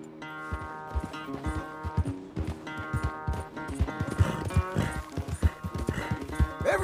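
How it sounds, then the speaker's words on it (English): A horse in the Western video game Red Dead Redemption stamps and clops with heavy, irregular hoofbeats close by, snorting and whinnying between them as the thuds grow busier toward the end. "That big mean horse."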